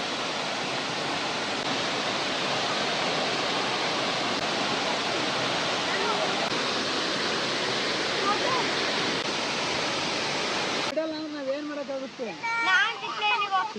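A waterfall at a resort gives a steady, loud rushing roar for about eleven seconds. The roar then drops away and people's voices take over near the end.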